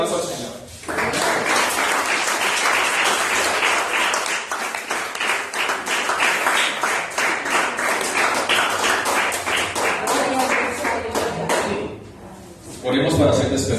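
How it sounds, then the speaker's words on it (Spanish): Church congregation claps together in a long, dense burst of applause lasting over ten seconds, loud and close, fading before a short pause and renewed sound at the end. "Denle un aplauso al Señor."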